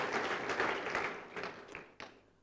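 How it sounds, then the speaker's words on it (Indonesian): A church congregation breaks into applause, a brief burst of clapping that thins into a few scattered claps and fades out within a couple of seconds. "beri tepuk tangan, haleluya"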